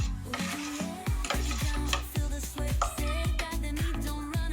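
Semolina and cucumber dosa batter is stirred in a bowl with steady, rhythmic scraping strokes about twice a second. The sound is close and fairly loud, with no voices.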